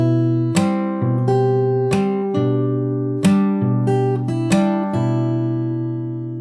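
Clean guitar picked slowly, single notes and low bass tones ringing together in a loose, unhurried pattern.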